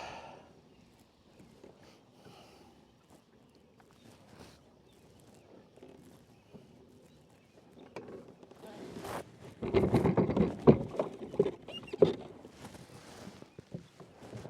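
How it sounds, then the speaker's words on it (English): Retractable landing gear wheels being lowered on a Hobie Passport 12 kayak fitted with a Freedom Launcher: a quiet stretch, then a burst of close, loud clunks, knocks and scraping with splashy water noise. "And about here, I drop the wheels."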